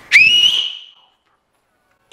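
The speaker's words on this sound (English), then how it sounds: "So then I do my New York whistle, super, super, super loud." A super loud New York-style finger whistle, one piercing rising-then-held tone lasting under a second, fading out into silence.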